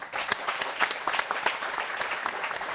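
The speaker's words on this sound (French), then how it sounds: "On vous applaudit." An audience on the Vendée Live show breaks into brisk, lively applause, many hands clapping close and fairly loud for just under three seconds, with no speech over it.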